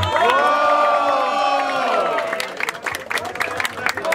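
A crowd at a rap battle semifinal erupts in loud cheering and whooping with shouts rising over it, then applause and scattered clapping take over.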